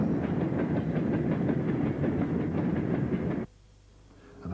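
Class 76 electric locomotive 76010 hauling a rake of merry-go-round coal wagons on the Woodhead line, wheels clattering in a steady rapid rhythm as the train passes close, then the sound cuts abruptly to quiet.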